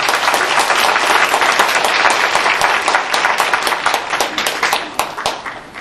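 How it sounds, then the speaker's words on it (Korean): A concert audience at a church fundraising music event gives warm, vigorous applause. The close, dense clapping carries a few distinct individual claps and fades gradually over about six seconds. "여러분 뜨거운 박수 한번 보내주시기 바랍니다."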